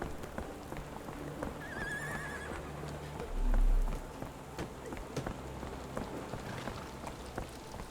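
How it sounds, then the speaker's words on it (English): Steady rain falls on a street in Sherlock Holmes The Awakened, a continuous hiss of drops with scattered patters. A horse whinnies briefly early on and hooves clip-clop, and a low thump swells midway. "This dreary rain is making a miserable day even worse."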